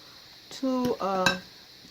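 Salmon croquette mixture made with fresh cooked salmon is blended with beaten egg in a bowl, giving a couple of brief, close, ringing utensil scrapes and clinks.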